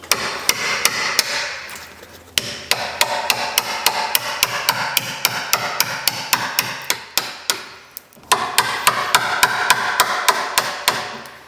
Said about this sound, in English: we can just get our chisel in there now